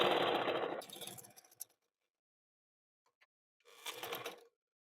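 A sewing machine stitches the shoulder seam of a short kurti in two bursts, a longer whirring run and then a shorter one, with near silence between them.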